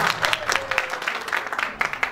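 Audience at a 44th batch cultural event claps in thanks, a steady patter of many hands with bursts of louder claps, moderately close.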